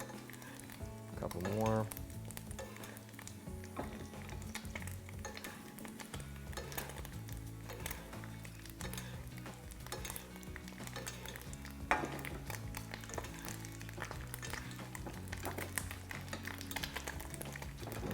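An egg fries in hot oil in a pan and is basted for a Spanish fried egg, giving a steady, busy sizzle with spatula scrapes and metallic clinks throughout. A brief remark is spoken over it.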